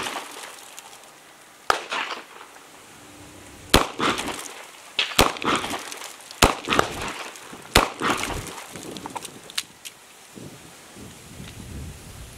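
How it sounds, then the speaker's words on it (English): A Taurus M605 Poly .357 Magnum revolver fires .38 Special +P rounds in double action at short range outdoors: about half a dozen sharp, loud reports spaced a second or more apart, each with a rolling decay. "Now for the Taurus M605 with 38 Special Plus P's put through it at short distance"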